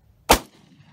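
A pump-action shotgun fires once on a jackrabbit hunt in northern Nevada, one sharp close blast that decays quickly into a quiet outdoor background.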